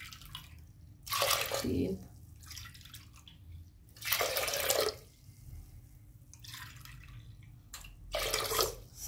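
Water poured from a bowl onto chana dal in a pot, three separate splashing pours with quiet gaps between them, close by, with a few spoken words alongside.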